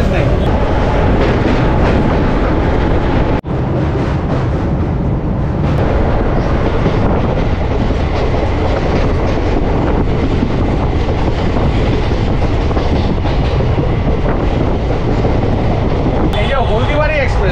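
Haldibari Express passenger train running on rails, a loud continuous rumble with rattling wagon noise throughout, close and steady, with a brief jolt partway through.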